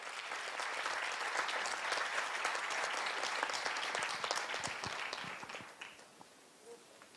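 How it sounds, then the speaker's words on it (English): Hearty applause from a conference audience for a panel, dense and steady at first, then thinning into scattered claps that fade out toward the end. "Folks, one last time, a big round of applause for this incredible power-packed panel."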